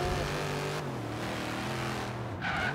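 A Dodge Charger R/T in Forza Horizon 3 revs through city streets, its engine note rising and falling in loud, close pulls with a brief scuffing burst near the end.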